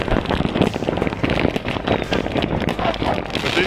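Fireworks and firecrackers crackle and pop outdoors in a snowy setting, a dense, continuous rattle of bursts at moderate distance filling the whole stretch without pause.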